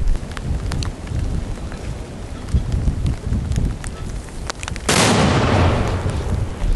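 Rough outdoor rumble and crackle at a frontline position, then one loud, heavy mortar boom that fires suddenly and rolls on as a sustained blast of noise.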